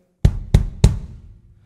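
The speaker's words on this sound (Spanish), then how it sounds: "Lo que estáis escuchando, este sonido de bombo que estáis escuchando," Three hard, deep kicks from a miked DW 22x16 bass drum fitted with a resonant head, evenly spaced about a third of a second apart, each with a boomy low body and a short decaying tail, heard alone.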